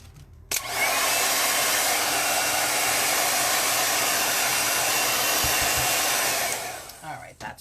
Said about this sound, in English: Going to use a blow dryer to dry this off now.